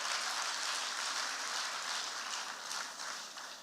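An audience at a Niger Delta MSME business event applauds, a dense wash of clapping that holds steady and then starts to fade.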